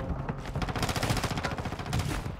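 Sustained automatic gunfire in Warzone 2, a rapid, continuous rattle of shots at a steady rhythm, loud and close, running throughout with overlapping reports.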